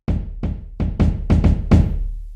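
A series of soft, rounded drum hits from Addictive Drums 2 samples played at low velocity, about seven strikes at an uneven pace, muted and low in attack, ringing over a steady low hum.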